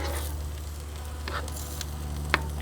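Detroit style pizza cooking in oil on a Big Green Egg, giving a faint, steady sizzle and crackle over a low hum, with one sharper pop near the end and no talk.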